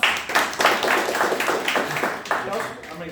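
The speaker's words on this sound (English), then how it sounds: "round of applause" Audience at a Toastmasters club meeting clapping to welcome a guest speaker, an uneven patter of hands in loose bursts rising and easing, fairly close, with a voice talking over parts of it.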